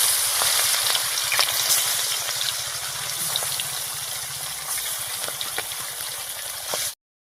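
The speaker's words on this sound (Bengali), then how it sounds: "এবার মাছটা হালকা করে ভেজে নিচ্ছি।" Fish sizzles steadily in hot mustard oil in a Bengali village kitchen, a close, even crackle with small pops running throughout before cutting off abruptly.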